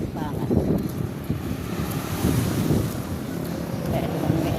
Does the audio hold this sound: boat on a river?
yes